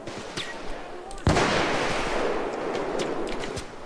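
Sniper fire in the bank heist game Payday 2: a sharp, loud single shot rings out and decays into a long echoing tail, with fainter pops before it and a voice talking nearby.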